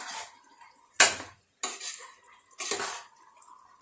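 A spoon stirs curd into biryani masala in a metal pan, four separate scraping and clinking strokes with short quiet gaps between them, close and clear.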